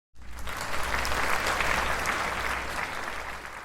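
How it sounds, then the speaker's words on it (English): A studio audience breaks into a hearty round of applause for a game-show contestant, the clapping starting abruptly and staying full and steady before easing slightly toward the end. "Please give a hearty round of applause to Mr. Alan Singleton."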